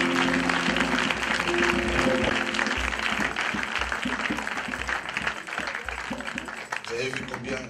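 A church congregation in the village of Vitré, Côte d'Ivoire, claps and applauds in a loud, continuous patter that runs throughout, mixed with voices and a busy background.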